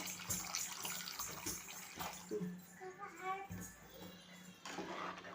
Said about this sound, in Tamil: இப்போ அரை மணி நேரம் ஊற வச்ச ஒரு புளி கரைசலை சேர்த்துக்கிறோம்